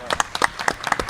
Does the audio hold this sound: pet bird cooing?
no